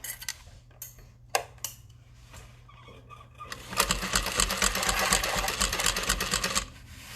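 A sewing machine stitches a tote side panel along piping at a long stitch length; after a few scattered clicks and handling taps, it runs in a loud, close burst of rapid stitching for about three seconds before stopping.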